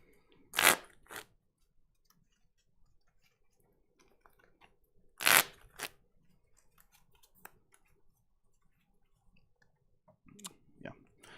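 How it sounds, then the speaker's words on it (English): Two brisk riffling bursts of a Pokémon trading card deck being shuffled, spaced a few seconds apart, followed by softer clicks and taps nearby. "And shuffle."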